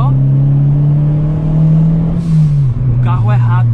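A Ford Ka 1.6 fitted with a turbo kit pulls in third gear, its engine droning loud and steady inside the cabin. Someone talks over the engine, and toward the end the pitch dips briefly.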